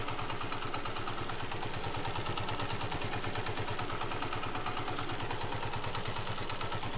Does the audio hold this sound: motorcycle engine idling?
yes